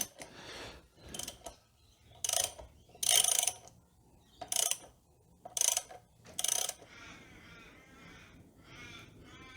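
Ratcheting clicks and clunks as a Suzuki V-Strom 650 engine is turned over by hand during an engine swap check, a series of separate mechanical bursts with quiet gaps between them, close up.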